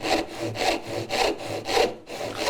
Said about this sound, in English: And you keep going until you hear the difference in the pitch as you saw.